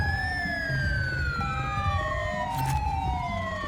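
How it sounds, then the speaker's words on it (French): Several police sirens wail at once in a GTA V police-mod game scene, their rising and falling tones crossing and overlapping steadily over continuous traffic rumble, loud and close for the whole stretch. "il y a trop de sirènes là, trop de sirènes"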